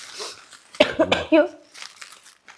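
A short cough bursts out around the middle, with a couple of quick follow-up hacks, close and fairly loud amid quiet, soft talk.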